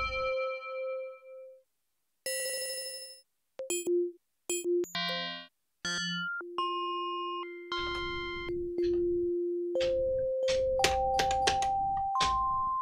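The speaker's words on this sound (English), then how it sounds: "the next element I was talking about adding was something a bit like a bell" Synthetic bell tones from a Liven XFM synthesizer ring out one after another, bright pitched dings and chimes in shifting patterns, some sustained, some clipped short, without any talking.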